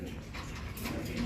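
Young racing pigeons in a loft coo softly and steadily at close range, a low continuous burble with faint background chatter.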